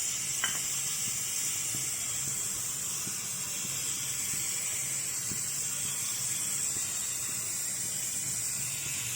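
Moong dal soup boils in a pot with a faint, steady hiss and soft bubbling, low in level and unbroken throughout.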